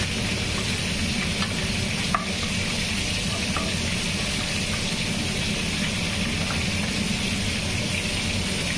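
Two bay leaves and nigella seeds sizzle steadily in hot fish-frying oil in a kadai, a dense, even crackle that continues throughout with a faint clink partway through.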